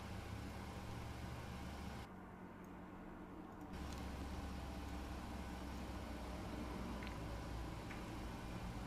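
Engine 1 of a simulated Boeing 737NGX airliner idles in a flight simulator, giving a steady, quiet, continuous hum with no change in pitch, alone without any talk.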